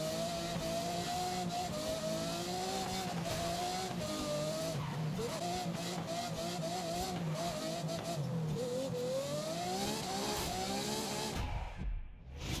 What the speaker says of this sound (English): That was the Super GT cars with the lookout circuit.